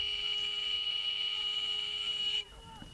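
A half-time buzzer at a schools rugby sevens match sounds as one loud, steady electronic tone held for over two seconds, then cuts off abruptly, leaving quieter crowd and field ambience.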